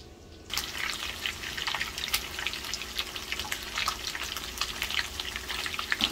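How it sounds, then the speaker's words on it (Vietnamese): Steady crackling and sizzling of mud carp fish frying in hot oil over medium-low heat, close and continuous, with dense popping bursts throughout. "mình như thế này mình chiên từ từ ở lửa dưới trung bình"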